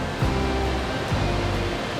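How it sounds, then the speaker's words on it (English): Rainbow Falls, a waterfall in Watkins Glen State Park, gives off a steady, dense rush of falling water, close and continuous with no voices over it. "this waterfall is called Rainbow Falls"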